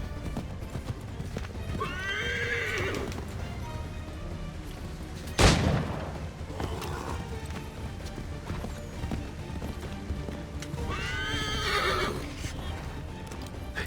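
A horse in the Assassin's Creed 3 video game whinnies twice over steady hoof clip-clop, with one sharp boom in between and game sound throughout.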